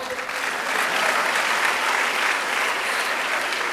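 An audience at a memorial lecture claps for an award announcement, broad sustained applause from a large crowd filling the room at a steady level throughout.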